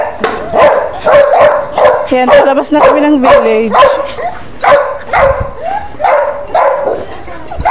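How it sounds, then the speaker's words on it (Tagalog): Many dogs bark in a rapid, repeated chorus close by along a village street, loud and continuous with some whimpers and yips mixed in, while a person talks over the noise. "ang dami aso"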